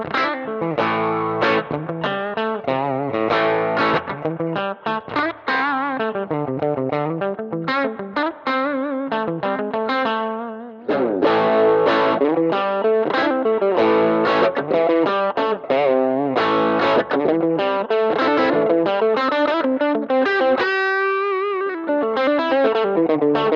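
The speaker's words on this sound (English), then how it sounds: "Let's just hear a crunch and a distortion setting on here" An electric guitar runs through a BOSS JC-120 amp plugin on crunch and distortion settings, playing a busy, loud, continuous riff with chorus-like shimmer and a brief pause midway.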